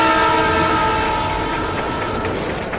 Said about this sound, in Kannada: ಟ್ರೈನ್ ಸ್ಟೇಷನ್ ಇಂದ ಹೊರಟಿದೆ, ಕ್ಯಾಚ್ ಇಟ್.